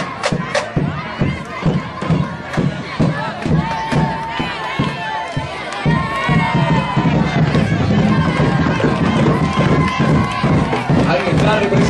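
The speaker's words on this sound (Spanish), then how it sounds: "Fuerte el aplauso para la primera princesa, Domínguez Samantha." Loud crowd cheering and shouting at a 2013 carnival queen election as the first princess is called up, with rhythmic thumping, excited voices and a rising roar in the second half.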